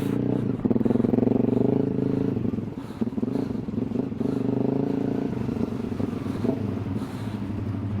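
CF Moto 450 MT motorcycle riding through boggy ground: a loud, close engine drone that rises and falls with throttle, with clatter and scrapes underneath, no clear voices.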